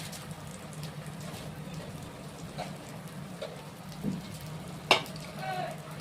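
Paturi parcels wrapped in leaves fry in a pan with a soft, steady sizzling hiss, fairly quiet, and a few faint clinks and clatters come near the end.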